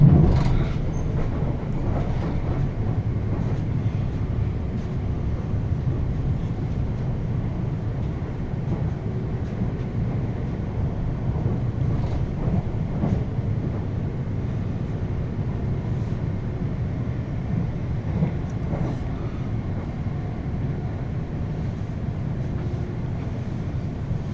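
Inside a Greater Anglia Class 720 train on the Braintree to Liverpool Street line, a continuous low rumble and rolling rail noise fill the carriage, steady and moderately loud, with faint clicks over the top.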